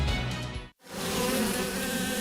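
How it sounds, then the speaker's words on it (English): Bees drone in a dense steady buzz as a sound effect, broken by a brief silent gap near the start before the loud swarming hum returns. "FBD doesn't stand for 50 bees droning."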